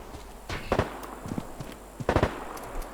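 Gunfire in the survival shooter Deadside: a few sharp, fairly distant cracks in two brief clusters, fairly quiet against a low background.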